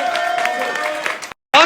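Audience clapping and cheering at a live show in honour of a 3,000 euro prize: a steady wash of applause that cuts off abruptly into silence, then a loud burst returns at the end.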